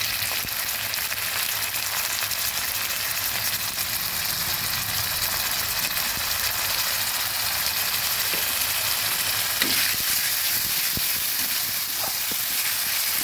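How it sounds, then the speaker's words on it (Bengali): Ginger and onion paste fries in hot oil for a koi fish curry, giving a steady, close, hissing sizzle that holds at an even level throughout with no voices. "আদাটা ভাজা হয়েছে, এবার দিয়ে দিচ্ছি পেঁয়াজ বাটা"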